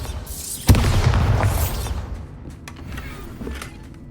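Bombarda explosion spell from Hogwarts Legacy gameplay, a sharp boom with a deep rumbling body that swells and fades over about a second, followed by a faint airy tail and soft game ambience.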